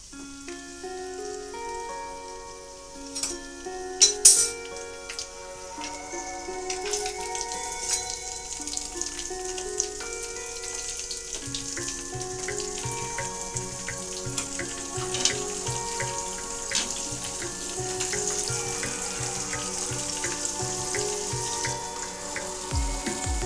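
Flour-coated chicken pieces frying in oil on low-to-high heat, a steady crackling sizzle with dense popping throughout, a few louder clatters early on, and a low tonal hum underneath.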